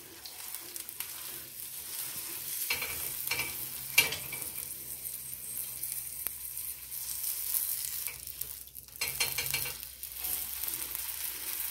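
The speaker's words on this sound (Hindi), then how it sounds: "रोस्ट करते वक्त हल्का सा तेल डालेंगे तवे पे जिससे अच्छे से क्रिस्पी सीख जाएगी मीडियम फ्लेम पे सेकिए" A millet taco shell roasting with a little oil on a tawa over medium flame, a steady quiet sizzle and crackle with occasional stirring scrapes and soft bumps, no voices.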